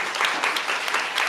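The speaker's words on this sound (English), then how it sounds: "Can we please give Glory a round of applause?" A live audience at a conversation event with an author gives a round of applause, full and steady hand-clapping with gentle swells, no talking on top.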